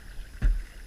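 A single paddle stroke from a rowed canoe or kayak on open water: one brief, low splash and thump, close by, with faint wind and no speech.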